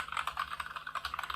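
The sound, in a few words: Genesis Thor 660 keyboard, Gateron Red switches, fast typing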